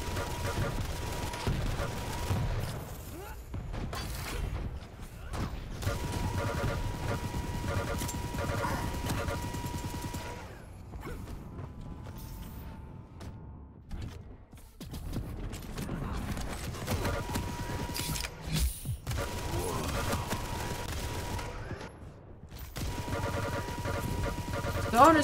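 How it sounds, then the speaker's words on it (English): Rapid, continuous machine gun fire in Quake duel play, a whirring, buzzy stream of shots like a blow dryer, in long bursts broken by short pauses, mixed with other game effects and occasional talking. "Just using that blow drying sounding machine gun there. It really sounds like a blow dryer."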